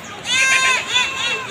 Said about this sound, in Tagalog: Yan yung kambing namin guys.